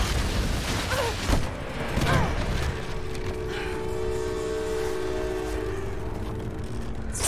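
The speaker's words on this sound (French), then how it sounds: "Ça s'effondre encore ou c'est stable là?" Structure collapsing in the Tomb Raider video game: heavy rumbling impacts early on, then a sustained low grinding, creaking drone that lingers loudly without talk.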